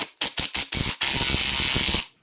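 Ratcheting a spring compressor loose on a BMW 3 Series front strut: four quick clicking bursts followed by a steady, continuous mechanical rattle, loud and close with no talking.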